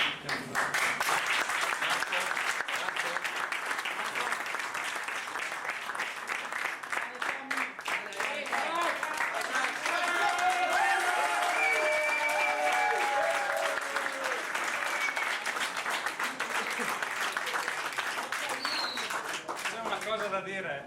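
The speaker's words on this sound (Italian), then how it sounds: "un applauso vada proprio a loro" A school audience applauds its cooking and restaurant teachers with sustained, dense clapping that carries on for about twenty seconds, with voices mixed in underneath.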